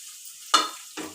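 Two quick bursts of crackling sizzle as dried red chillies fry in hot oil for tempering, each fading after a moment, with no talking.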